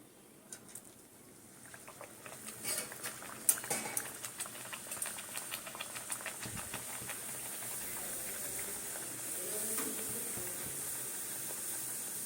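Luchi, rolled flatbreads, frying in hot oil in a wok, giving a steady bubbling sizzle that swells after a few seconds and keeps hissing continuously, close and moderately loud, with no talk.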